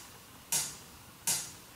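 Two crisp hi-hat hits in a simple lo-fi beat pattern, one on each beat, spaced about three quarters of a second apart over a faint background hiss, with no talking.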